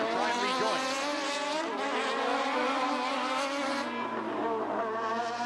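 A 1993 Toyota Atlantic race car screams along the Trois-Rivières street circuit, its engine loud and steady at high revs with rising and falling pitch through gear changes, heard close from onboard.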